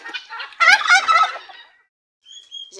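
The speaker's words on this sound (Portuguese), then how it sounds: "Os piruzinhos agora estão aqui, ó." A burst of young turkeys gobbling on a small farm in a rapid, warbling chorus, close by, fading out, then a brief high whistle-like call near the end.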